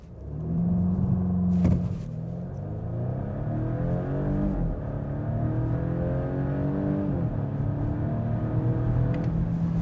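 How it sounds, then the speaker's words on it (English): A 2025 Volvo V60 B5 Cross Country four-cylinder engine pulls hard from a brake-torqued launch, its note rising through several gear changes, loud and continuous from inside the car. "And the engine, it makes a decent sound. It sounds pretty much like a 4"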